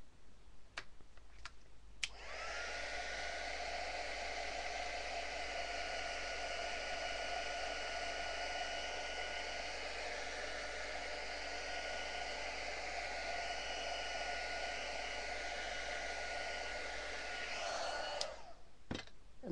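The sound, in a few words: heat tool heat-setting paint on paper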